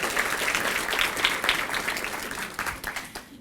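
Audience clapping at a school Founders' Night for grade 8 students and their teacher, a steady crowded patter of hands with slight swells, tapering off over a few seconds.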